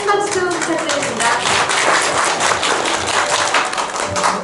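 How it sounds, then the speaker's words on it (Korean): Applause from a seminar audience at a student network's twentieth-anniversary event, a dense continuous patter of many hands clapping, loud and close throughout. "큰 박수 부탁드립니다"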